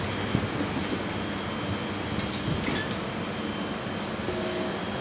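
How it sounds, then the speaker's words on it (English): London Underground tube train standing at a platform before departure, a low steady rumble and hum with a few brief high squeals and clunks from the train. "Train's ready to depart, mind the closing doors."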